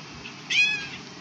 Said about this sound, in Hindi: ओ कितनी प्यारी बिल्ली है।